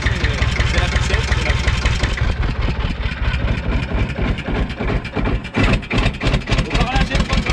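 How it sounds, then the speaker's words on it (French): A Bull-Chargeur BC 30 loader's engine runs loud and close with a continuous rough, throbbing drone that shifts slightly in pitch partway through, with people talking over it. "On va relâcher le moteur."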